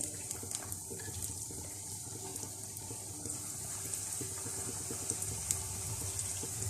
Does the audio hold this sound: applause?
no